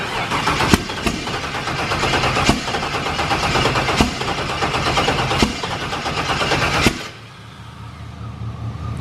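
A turbocharged V8 in a Firebird, fitted with a COPO cam, cranks with a loud rapid rhythmic churning for several seconds, then drops into a lower, rough idle rumble near the end.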